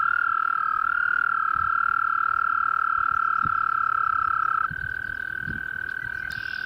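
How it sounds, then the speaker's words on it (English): American toads trill in a pond, one long sustained high trill close and loud, shifting pitch as another takes over, with faint splashes underneath. "but the American toads are hard to miss"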